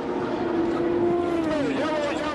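A Champ Car race car crashes against the wall at Milwaukee, losing a rear wheel during the 2005 race, heard as a steady loud engine roar with a shifting pitched whine and no separate impact.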